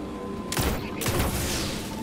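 A short, sharp burst of rapid gunfire in the video game Destiny with two or three quick cracks, close and loud, ending abruptly.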